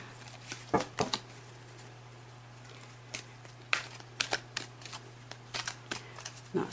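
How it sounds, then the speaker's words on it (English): Oversized oracle cards being shuffled by hand indoors, with soft papery slides and sharp flicking riffles in irregular bursts over a steady low hum, no voices. "They don't shuffle really well because of their size."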